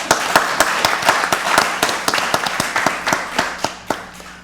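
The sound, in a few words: applause for a new staff member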